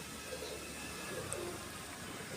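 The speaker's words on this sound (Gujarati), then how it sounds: "કબૂતર બોલે મિત્રો." A pigeon coos softly a couple of times, faint against a quiet outdoor background.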